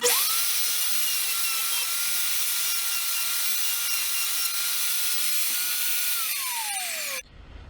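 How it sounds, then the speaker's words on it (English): A plunge router cuts a 1-inch wooden tenon for a candlestick base, whining at a steady high pitch close by for about seven seconds before its tone drops as it winds down and then cuts out. "I'm going to come down and make a 1-inch tenon so that they can fit into the base"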